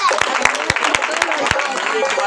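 An audience at a monthly prayer gathering of a Pakistani ministry breaks into brisk clapping, with sharp individual claps repeating about twice a second under a voice speaking.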